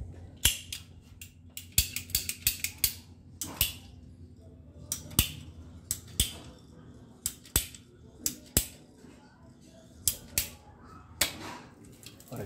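A plastic water filter tube being cut during a filter installation, producing a series of sharp, dry clicks and snaps at an uneven pace, close up over a quiet background.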